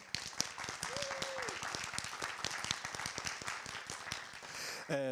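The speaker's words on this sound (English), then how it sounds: "so thanks and applause for them" Applause from a policy lab audience for the event team, a steady patter of many hands clapping at moderate distance, with a brief voice or tone rising through it and a louder burst near the end.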